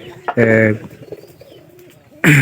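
Pigeons kept for selling their young in pairs coo in two loud, close, throaty bursts, one short and one at the very end, with quieter rustling and faint sounds in between.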